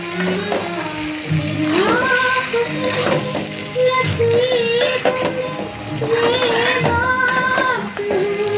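Egg and cauliflower noodles with coriander leaves being stirred and tossed in a hot pan, a steady loud sizzle with repeated scraping strokes of the spatula throughout, no voices.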